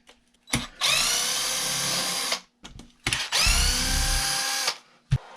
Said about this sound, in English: now we also gotta take our little bolts out down here.